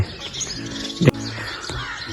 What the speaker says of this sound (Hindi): परिंदे भी सुबह सुबह चहचहा रहे हैं